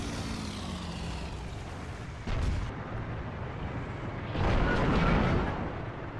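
A KV-85 tank's cannon fires in the video game World of Tanks, sharp booming blasts, one around the middle and a heavier one later, over a low engine drone.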